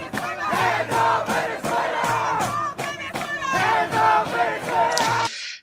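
A protest crowd shouts and chants in rhythmic bursts, many voices close and loud throughout before cutting off abruptly at the end.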